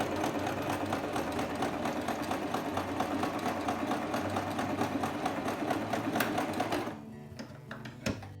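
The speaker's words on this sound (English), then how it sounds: "put the needle in the fabric, lift the foot up and spin it around a little bit, put it back down and then sew back down the other side" A sewing machine stitches fabric for a face mask, a steady fast mechanical whir with rapid needle ticking running continuously for about seven seconds before stopping, followed by a few faint handling clicks.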